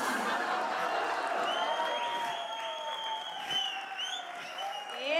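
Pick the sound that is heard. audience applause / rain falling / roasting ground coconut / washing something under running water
audience applause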